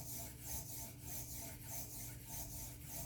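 A Kyocera ceramic knife is sharpened with sweeping heel-to-tip strokes, a soft rhythmic rasping that repeats about every half second, faint and close with no voices.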